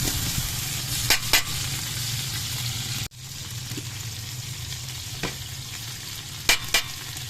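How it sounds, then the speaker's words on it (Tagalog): Corned beef sautéing in a pan gives a continuous, close-up sizzle and crackle. Occasional stirring clicks from a utensil punctuate it, and there is a brief break midway. "Tagisa ang aton nga corn beef"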